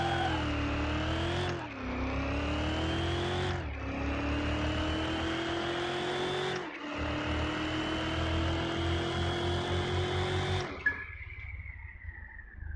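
A car launches down a drag strip in Car Mechanic Simulator 2021. The engine screams upward through about four gear shifts, each with a brief dip, then drops off abruptly near the end.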